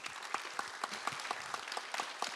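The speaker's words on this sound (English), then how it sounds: "A round of applause for Noeleen." Applause from an audience at a keynote panel of a leadership summit, a steady wash of many hands clapping with sharper individual claps standing out, moderately loud and alone for a couple of seconds.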